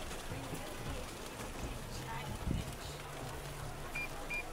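Steady rain falls outdoors during rainy weather in Guyana, a constant hiss with occasional nearby thuds, faint voices murmuring under it.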